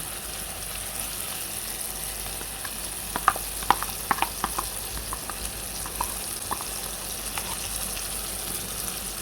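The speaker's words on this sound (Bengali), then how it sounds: "আমি এর মধ্যে এবার দিয়ে দিচ্ছি সর্ষে বাটা আর কাঁচা লঙ্কা বাটা" Mustard paste and green chilli paste frying in a pan with water lilies, a constant soft hiss of sizzling oil with scattered crackles and pops, steady and moderately loud, no talk.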